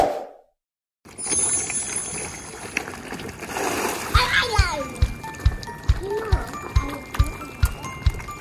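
Fish competing for food thrash at the surface beside a boat, a burst of splashing and spattering water followed by a run of sharp rhythmic thumps, with voices nearby.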